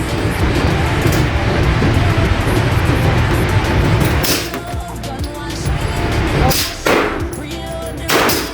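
A suppressed Glock 17 pistol fires at a target, giving several sharp, muffled shots spaced a second or two apart over steady outdoor background noise.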